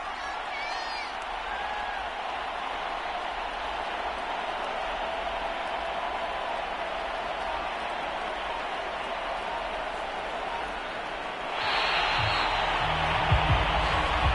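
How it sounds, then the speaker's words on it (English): A home crowd in a PS4 football video game applauds in a steady, distant wash of clapping and murmur, swelling louder near the end, with occasional faint voices over it. "And the home crowd applauding. They're happy with what they've seen."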